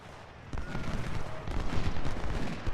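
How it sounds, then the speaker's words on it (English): Volleys of musket fire from three brigades aimed at an artillery battery in Ultimate General: Civil War at Cedar Mountain, a dense rolling crackle of overlapping shots, fairly loud and sustained. "I think 3 brigades just all shot at that artillery"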